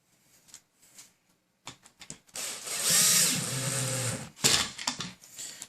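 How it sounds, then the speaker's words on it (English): Power drill running down shallow-cut screws, a few short whirring bursts followed by one longer sustained drive, faint and close in a quiet room. "these were the bad screws, which I had to use my drill for because they weren't cut very deep"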